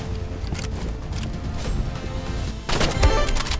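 Sniper rifle shots in the Roblox shooter Rivals, a sharp loud crack and burst near the end over a steady game background with low rumble.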